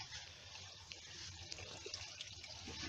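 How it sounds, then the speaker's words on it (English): Water siphoned through a small hose from a big container into a garden barrel pond, a steady, soft trickling flow with light gurgles, close and continuous without talk. "The water now is being siphoned."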